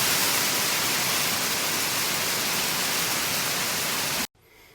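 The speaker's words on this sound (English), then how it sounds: "We're having a hailstorm." Dense, loud hail hammers the roof of a converted bus in a constant roaring clatter, then cuts off abruptly near the end.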